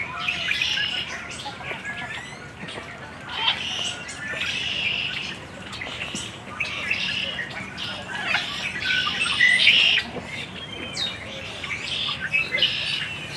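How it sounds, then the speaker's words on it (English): Many small birds chirp and tweet continuously inside a zoo's walk-through flight aviary with a pond, a lively overlapping chorus of close and distant calls over a soft ambient background. "We're gonna go inside the flight aviary. Got a pond here with some ducks and turtles. Several other little birdies."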